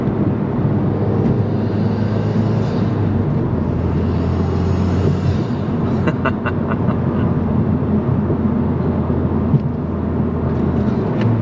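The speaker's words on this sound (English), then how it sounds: "how much turbo noise this thing is making right now" A loud, steady Mazdaspeed 3 engine roar with a constant turbocharger whine, running continuously throughout with a few brief ticking sounds midway.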